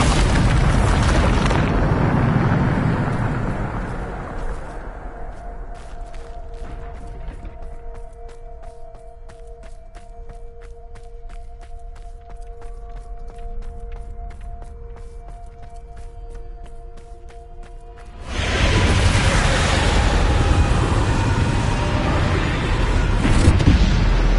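A Bombarda spell explosion from the Hogwarts Legacy video game: loud, broadband booming blasts open the clip, a quieter humming stretch follows, then a second heavy blast erupts and roars on to the end.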